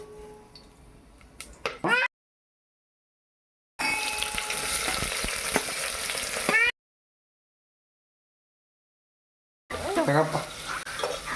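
Onions for chicken biryani fry in a pan with a close sizzle and stirring, heard in three bursts separated by stretches of silence.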